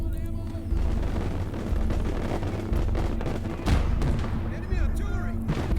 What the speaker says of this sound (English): Come the mortars.